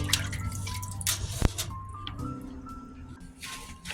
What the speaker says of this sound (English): Start by rinsing your fish to get rid of impurities.